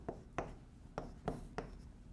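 Chalk or pen strokes on a board during a nonlinear control systems lecture, five distinct short scratchy strokes in quick succession, close and fairly quiet, with no talk.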